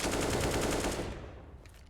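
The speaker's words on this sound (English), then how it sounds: "Sprays from Kicker" Sustained automatic weapon spray in the game CS:GO on the Overpass map, a rapid, loud burst of evenly spaced shots that stops abruptly and fades into a quieter tail.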